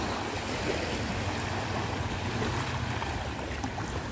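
Sea waves breaking against the shore in Magadan during a summer fishing day, a steady, close rushing wash of water with no voices.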